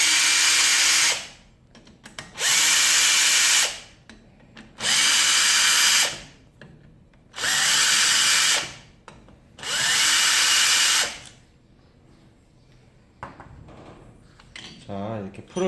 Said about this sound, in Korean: 그런 다음에 볼트 6개를 풀어주시면 됩니다.